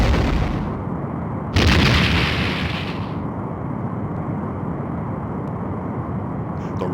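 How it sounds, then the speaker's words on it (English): A Romulan warbird blows up in the Star Trek: A Final Unity game, a heavy rumbling blast with a sharp burst partway through, then a long roaring decay. "The Romulan warbird has been destroyed."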